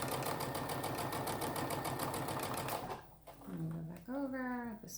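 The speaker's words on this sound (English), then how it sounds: "you want to back stitch over that lace area" A domestic sewing machine whirs in a steady fast rhythm while back-stitching over lace on a fabric surgical-style mask. It then stops, and a voice speaks up close.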